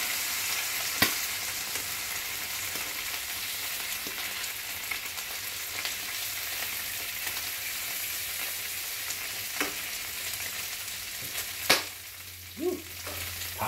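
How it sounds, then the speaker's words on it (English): Bacon frying in a pan gives a constant close sizzle with scattered sharp pops and a few light clanks of a utensil toward the end, with no voices. "let's flip the bacon one more."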